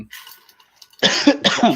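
A quiet muffled sound fades out, then a close person coughs twice in quick succession, harsh and loud.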